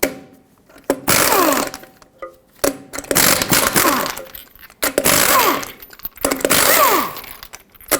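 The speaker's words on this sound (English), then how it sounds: "Use your 21mm socket, remove all 6 of your lug nuts" Impact wrench spinning lug nuts off a 2009-2011 Ford F-150 wheel: four loud buzzing bursts of about a second each with short pauses between, close up and with no talking.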